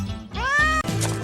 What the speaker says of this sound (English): it turns out there was a cat after all